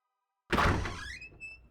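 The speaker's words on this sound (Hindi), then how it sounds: "जा दरवाजा खोल" A door is pulled open in a home, giving one loud broadband thunk followed by a fading, faintly ringing tail, with no talk over it.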